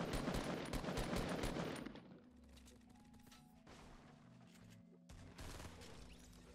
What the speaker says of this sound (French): Tirer à travers pour surprendre l'adversaire